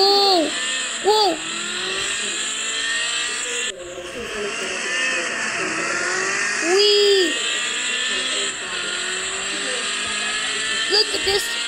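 A 1987 Ferrari F40 engine in a modded video game, revving repeatedly with rising and falling pitch sweeps, close and loud, while a player talks excitedly over it.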